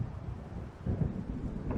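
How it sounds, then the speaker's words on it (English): Thunderstorm rolling in during the Alan Wake video game: low, muffled rumbles and gusty wind noise swelling in two uneven surges over under two seconds, fairly faint and distant with no voices. "It seems there's a storm coming."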